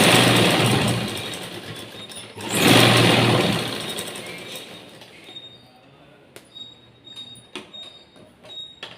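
Sewing machine stitching a seam on a blouse, a steady mechanical whirring that swells in two loud bursts early on, then fades to quieter clicks and handling noises.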